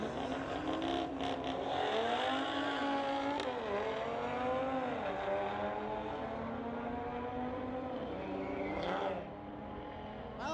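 Street-legal drag race between a 2018 Audi S4 and a 2016 BMW, with engines revving hard and rising through gears as they pass, heard from a distance, then fading away.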